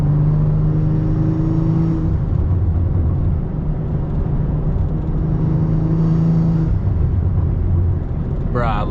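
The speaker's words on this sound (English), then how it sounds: "I love the burbles on this car." A BMW M340i fitted with a catless downpipe drones with a loud, steady low exhaust rumble from inside the cabin, its pitch shifting as the engine works, while voices talk briefly over it.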